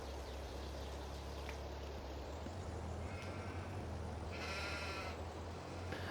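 Sheep bleat in the Farming Simulator 22 video game, a few short bleats rising over a steady low rumble and hum of farm ambience.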